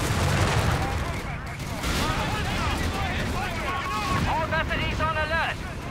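Gunfire in the video game Company of Heroes 3, with bursts of shots and booming fire over dense battle noise, while game voices shout orders throughout.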